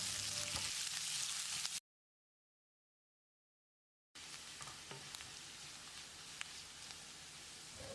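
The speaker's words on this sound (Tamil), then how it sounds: "வெங்காயத்தை நல்லா செவந்து வர்ற அளவுக்கு வதக்கிடலாம்." Two large sliced onions sizzle in a pan on the stove, a continuous crackling fry that cuts out into silence partway through and then resumes more quietly.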